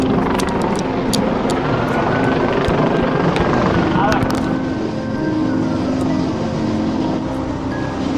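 A firefighting helicopter's rotor thrum fills the air, loud and close, as it approaches over a large fire, with people talking underneath.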